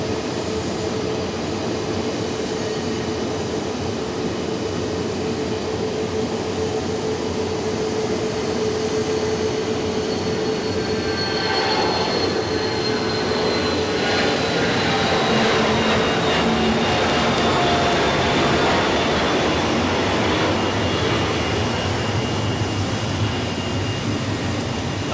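A Dornier aircraft accelerates along runway 28 at Zurich Airport, a steady broad engine roar with a rising whine, loud and continuous for the whole stretch with no talk.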